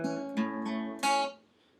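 A finger-picked guitar plays a short phrase of notes, clear and close with ringing sustain that fades out at the end.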